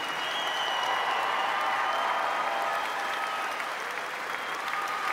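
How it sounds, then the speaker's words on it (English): Crowd at a Division 3 OHSAA girls basketball championship game applauding the players, a dense, steady wash of clapping from many hands that holds at an even level throughout. "please give all the girls in the court today a resounding applause for all of their efforts"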